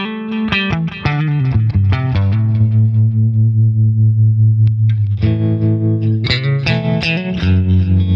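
An electric guitar plays through a BOSS Katana Gen 3 amp with delay, loud picked notes and a sustained chord ringing out, then fresh strums whose repeats echo behind them.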